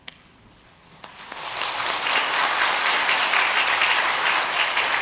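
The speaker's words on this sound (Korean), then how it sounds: "자리에서 일어나실 때 우리 박수로 환영하겠습니다." A church congregation at Sunday worship applauds to welcome new members, starting with a few quiet claps and swelling after a second into sustained, full clapping that holds steady to the end.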